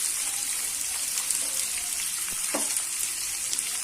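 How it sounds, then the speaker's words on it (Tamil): Finely chopped large onion with green chillies, ginger and curry leaves sautéing in oil for Kanchipuram upma, a dense continuous sizzle close by with faint stirring scrapes. "இந்த வெங்காயம் கொஞ்சம் நல்லா வதங்கட்டும்."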